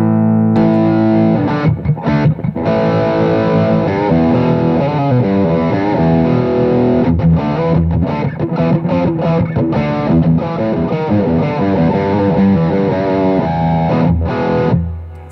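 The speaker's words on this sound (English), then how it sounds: "It's a distortion and a overdrive." Heavily distorted electric guitar through a distortion and overdrive pedal plays loud, gritty chords and riffs continuously, with brief choppy breaks, then fades at the end.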